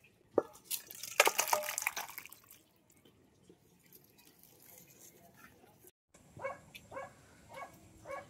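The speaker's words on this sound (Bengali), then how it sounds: "এখন গামলায় ঢেলে দেব" Thin mutton and potato curry is poured from the pot into a large bowl, making a short, splashy gush of liquid in the first couple of seconds. It then goes quiet, and a series of short, sharp barks sounds near the end.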